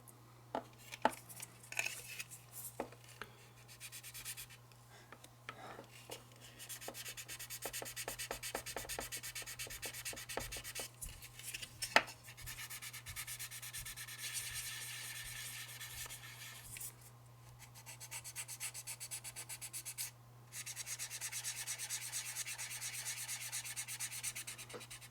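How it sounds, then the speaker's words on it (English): Sandpaper rubs along the parting line on the nose of a model F3 diesel locomotive shell, steady scratchy back-and-forth strokes close up with short pauses and a constant low hum underneath, no voices. "you don't want to just sand in the area of the parting line"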